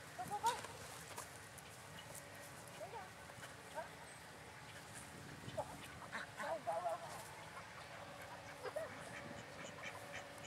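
Faint duck quacks scattered across a quiet outdoor scene, some distant and soft, with a few louder bursts and voices talking under them.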